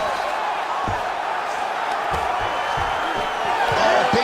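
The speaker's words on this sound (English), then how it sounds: "big pop from the crowd as they get back to their feet" Crowd noise from the arena audience in EA Sports UFC 5 during a Joseph Benavidez vs Tim Elliott bout, a steady roar of cheering that swells slightly toward the end, with faint thuds beneath.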